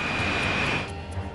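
A jumbo jet taking off gives a broad, roaring engine wash with a high whine that fades after about a second, moderately loud and heard without voices.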